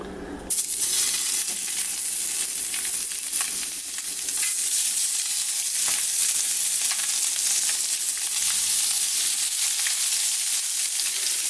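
Blackened trout fillets sizzle steadily in an oiled pan, a loud continuous frying hiss that sets in after a brief quiet start and holds close up with no one speaking.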